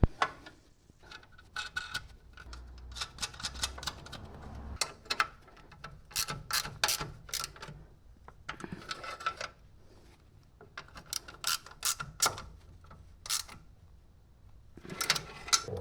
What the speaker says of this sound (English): add the bolts here and tighten